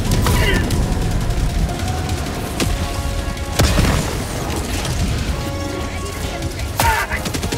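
Hellbomb detonation in the Helldivers 2 shooter game, with booming blasts and crackling gunfire bursts layered over a dense, loud battle din, sharp impacts striking at intervals, and a player talking throughout.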